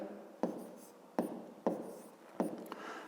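Pen strokes on paper during a fifth-grade math exercise: four distinct scratchy taps and short scribbles spaced about a second apart, close and fairly quiet, with no talking.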